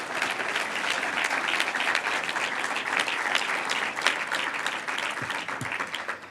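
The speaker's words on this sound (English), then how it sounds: "Let's have one last round of applause for all this year's recipients of the Rich Stemmies" Sustained applause from a conference audience at an awards general session, steady dense clapping throughout, loud and even with no break.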